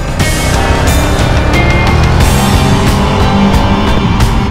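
A Ducati Diavel motorcycle on a test ride, its engine roaring loud and close with steady revving and wind rush throughout, no talking.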